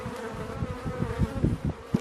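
Bees in an opened beehive during an inspection, a close, dense buzz with individual insects droning past.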